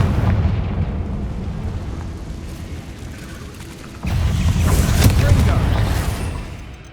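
A Confringo explosive spell blast in Hogwarts Legacy goes off halfway through as a sudden, loud, deep booming burst. A steady low rumble plays before it, and the blast's rumbling roar fades slowly afterward.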